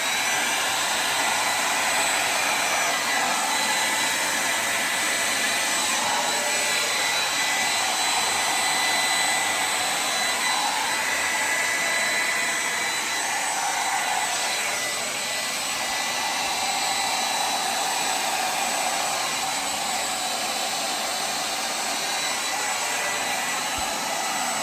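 A hair dryer blows steadily on acrylic pour paint on a canvas, a loud, continuous close whooshing roar that barely changes throughout, with no talking.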